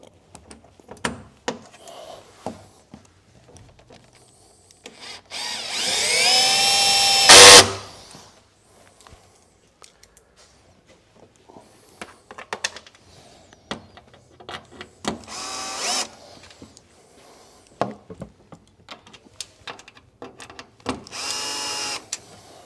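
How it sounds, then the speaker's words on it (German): A cordless screwdriver drives screws with metal threads into the front grille of a Dacia Sandero Stepway III, whirring in several short, close bursts, one longer and louder, with clicks and handling noises in the gaps. "Das kann man hier natürlich mit dem Akkuschrauber machen"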